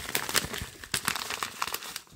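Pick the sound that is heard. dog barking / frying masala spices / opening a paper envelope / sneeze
opening a paper envelope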